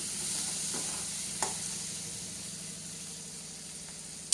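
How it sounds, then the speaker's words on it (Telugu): Onion pieces fry in a pan with a steady, hissing sizzle that runs throughout, close and even, marked by an occasional stir or clink and a sharp tap at the end. "ఉల్లిపాయ ముక్కలు కొంచెం గోల్డ్ కలర్లోకి మారుతున్నాయి కదండి"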